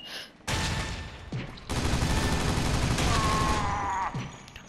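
Rapid fully automatic gunfire from a video game weapon, loud and sustained bursts with brief pauses between volleys, close and dense.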